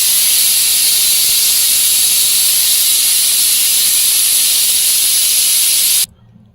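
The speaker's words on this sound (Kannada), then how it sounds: "ಇವಾಗ ಆಲೂಗಡ್ಡೆ ಬೇಯಿಸ್ತಾ ಇದ್ದೀವಿ." Potatoes boiling in a pressure cooker release a loud, steady, continuous steam hiss that runs unbroken for about six seconds, then cuts off abruptly, leaving near silence.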